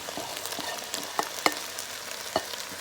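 Guyanese chowmein stir fry being mixed in a pan, soft ongoing sizzle with scattered sharp clinks and scrapes of a utensil, a few louder taps standing out.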